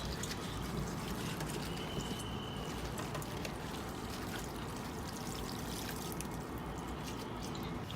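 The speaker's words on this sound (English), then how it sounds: "Let's wash each layer of the leaves to remove the possible contamination of fertilizers and other dirt." Chinese cabbage (pechay) leaves washed layer by layer under running water, a steady close pour and trickle with faint splashing throughout.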